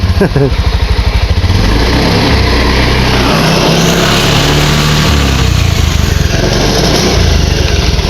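A Honda Beat FI scooter engine, fuel-injected and said to lose power at times, runs close by and loud. It sputters as it starts, then revs in a steady, buzzing drone that rises and falls.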